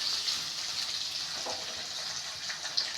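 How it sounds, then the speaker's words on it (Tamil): Onions sautéing in a pan for chicken kulambu, a steady soft sizzle and hiss running throughout at moderate level, with no voices. "ஸோ வெங்காயம் நல்லா வதங்கணும்"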